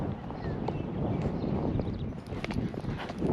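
Hooves of a ridden horse clip-clopping on a ranch trail in the early morning while wranglers bring in the herd, steady and fairly close, mixed with wind noise against the microphone.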